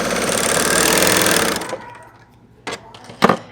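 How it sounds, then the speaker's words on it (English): A Bernina L890 sewing machine runs at speed, a dense whirring stitch on stretched knit ribbing, then stops abruptly, followed by two short knocks as the work is handled. "we'll start sewing that off. And as I sew, I'm going to stretch my ribbing."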